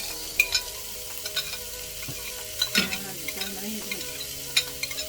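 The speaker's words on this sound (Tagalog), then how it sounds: "Fried rice na siya ang giluto lang." Fried rice with paprika and carrots sizzling in a hot pan while being stirred, a steady frying hiss broken by repeated close scrapes and clinks of the utensil.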